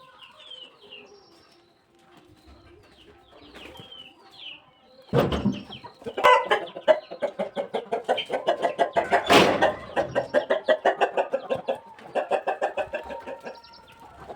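Chickens and chicks cluck close by in a rural shed. After a quiet start, a burst of loud, rhythmic clucking and calls builds and repeats steadily, with faint chirps beforehand.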